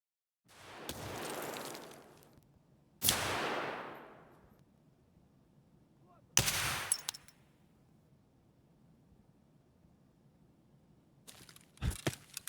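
Gunfire in a raid on the Interchange map in Escape From Tarkov, a few separate loud shots with ringing decay spread across a quiet stretch, plus a short burst near the end.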